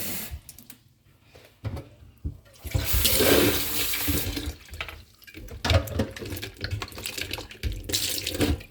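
Yellow chanterelle mushrooms being washed in water, heard as repeated bursts of splashing and running, sloshing water with short quieter gaps between them.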